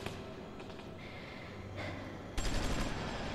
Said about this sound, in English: The shots are still going off.